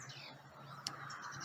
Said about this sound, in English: The sound of the birds is lovely. They're just singing.